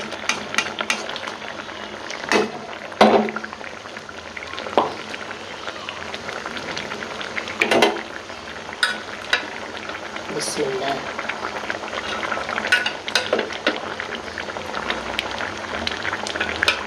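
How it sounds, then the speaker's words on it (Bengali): Prawn curry simmering in a pot, a soft bubbling and gentle boil running continuously, with scattered clinks and stirring taps of a utensil and someone talking over it. "এই যে দেখেন আমার সুন্দর করে তরকারিটা বলকাই গেছে"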